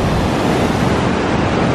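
A waterfall in Fiordland National Park roars with rushing water, a loud, dense, unbroken broadband wash that holds steady throughout, close and with no voices.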